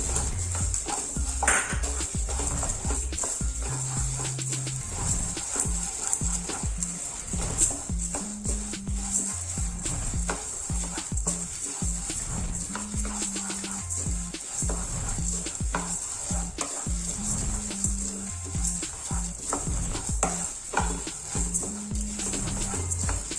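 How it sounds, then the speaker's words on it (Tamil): Coriander seeds, toor dal and chana dal dry roasting in a pan, with a faint steady rustle and sizzle and occasional scraping stir strokes, quiet and continuous throughout. "கொஞ்சம் கொத்தமல்லி வறுப்படும் போதே நான் அந்த துவரம் பருப்பு கடலைப்பருப்பு இது போட்டுறேன்"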